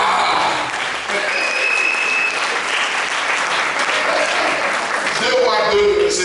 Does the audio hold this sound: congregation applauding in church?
yes